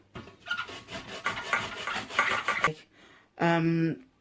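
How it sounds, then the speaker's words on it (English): Cassava grated against the smooth side of a metal grater makes close rhythmic rasping strokes for a couple of seconds, then after a short pause a brief ringing metallic scrape. "I'm going to use the smooth part of the grater to grate my cassava."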